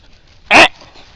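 A dog gives one short, loud bark at a riverbank while someone is fishing, close to the recording and standing alone against a quiet background.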